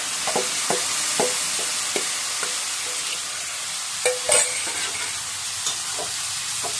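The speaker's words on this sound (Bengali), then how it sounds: "এই যে দেখুন আলু পেঁয়াজ ভাজা হয়ে গেছে, এবার মসুর ডালটা ছেড়ে দিচ্ছি।" Red lentils (masoor dal) are added to fried potato and onion in a pan, giving a continuous close sizzle punctuated by repeated scraping stirs of a spoon, with a couple of louder clacks.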